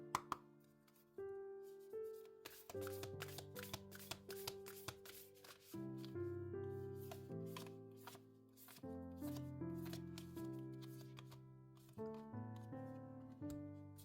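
Oracle cards being shuffled by hand during a tarot reading, quick soft riffling and slapping of cards, faint and close, under steady gentle background music.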